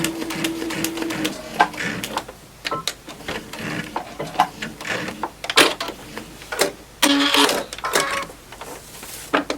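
A sewing machine runs a straight line of stitching on a Christmas tree snack pad, close and fairly loud, its rapid mechanical whir starting and stopping in short bursts.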